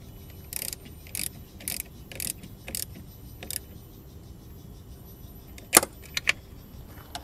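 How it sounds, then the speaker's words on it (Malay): A car battery cable terminal tightened with a tool: a run of short, evenly spaced metallic ratcheting bursts, then a few sharper clanks near the end, close up over low background hum with no talking. "Kita pasangkan bahagian positif dulu. Kemudian kita ketatkan balik."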